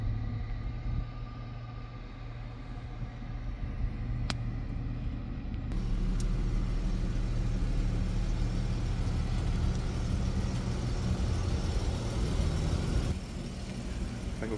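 A 2021 Dodge Charger GT with 87,000 km sits idling after a push-button start, a low steady engine rumble with a faint constant hum and a couple of small clicks.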